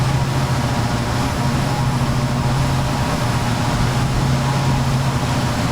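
Twin turboprop engines of a Jetstream 4100 in a flight simulator drone steadily at takeoff power, giving a loud, continuous hum with a strong low tonal whine and broad roar, unbroken and without talking.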